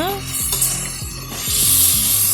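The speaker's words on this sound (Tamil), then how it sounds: "நல்லா வதக்குறாங்க அடுப்பில் இருந்து புகையாக வருது" Spices and chilli powder sizzle as sambar masala is sautéed in a pot over a smoky wood-fired stove, a steady close hiss broken by short scraping stirs and low clanks.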